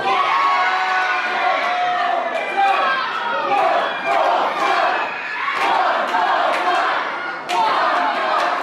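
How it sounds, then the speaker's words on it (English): A packed wrestling crowd at a live event roars and cheers, with loud shouts and surging waves of noise, while scattered voices yell over the din and a few sharp thuds land near the end. "Listen to the crowd."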